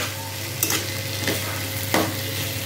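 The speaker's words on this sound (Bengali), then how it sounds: "এবার রসুনটা নাড়িয়ে নেব।" Garlic fries in a pan for a spicy lote fish curry while being stirred: a steady sizzle under three distinct scraping strokes of a spatula spaced about a second apart, close by and without voices.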